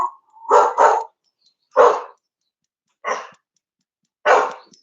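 Indoors, a pet dog gives a series of separate barks: a quick double bark, then three single barks spaced about a second apart, loud and close with silence between them.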